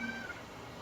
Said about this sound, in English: That was my phone ringing, not my cat.